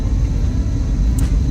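A Jeep Liberty cruising, heard from inside as a steady low road and engine rumble, moderately loud and unbroken, no talking.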